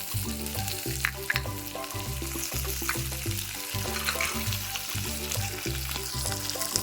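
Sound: frying pirandai (adamant creeper) for chutney

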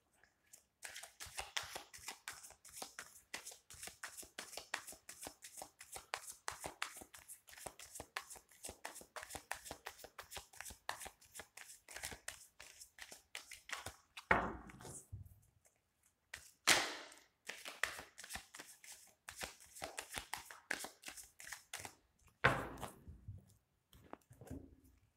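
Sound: shuffling tarot cards

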